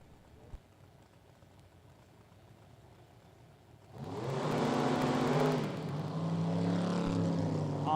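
Super Gas drag racing cars launch off the line at a drag strip, a sudden loud burst of engine roar that jumps up after several seconds of quiet idle and holds steady to the end.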